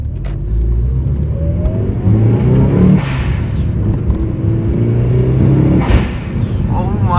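A Mitsubishi Evo 7 engine revs loudly and close by, its steady roar swelling in two sharp blips about three seconds apart, with a voice talking over the engine noise.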